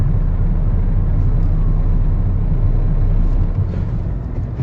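A car with a manual gearbox, driven by a learner in traffic, gives a loud, close, steady engine rumble as the driver shifts down, and the drone eases slightly toward the end.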